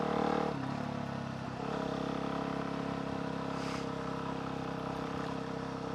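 A supermoto dirt bike engine drones loud and close, holding a steady rumbling tone with a brief dip and shift partway through as it rides along, with no voices.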